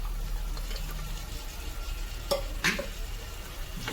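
Mutton dropped into roasted masala in a pan, frying with a low steady sizzle while a spoon scrapes and stirs in a couple of sharp clacks, close and fairly quiet, with no speech.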